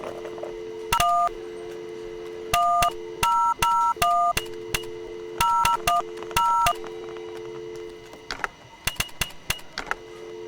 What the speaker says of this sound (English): on the phone, you can input any number of zeros and ones